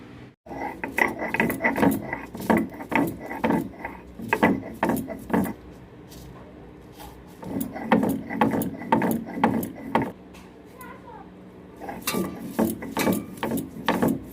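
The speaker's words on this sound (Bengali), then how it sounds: "আদা রসুন পেঁয়াজ আর জিরে কিন্তু আমার বাটা হয়ে গেছে" Ginger, garlic, onion and cumin ground into a paste by hand on a stone, a near, steady run of rough rubbing and scraping strokes in bursts with short pauses.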